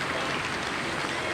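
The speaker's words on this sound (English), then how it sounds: "the crowd are cheering" Crowd clapping for rowing crews finishing a race at Henley Royal Regatta, a steady, dense patter of applause at moderate level with no clear voices.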